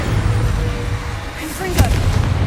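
A Confringo spell blast in the video game Hogwarts Legacy, a single sharp burst with a bright crackling flash amid a rumbling game backdrop, close and moderately loud, with brief spoken fragments.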